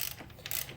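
A ratchet fitted with a 7/8 deep well socket loosens a bolt, giving a short burst of close, rapid pawl clicks with no talk.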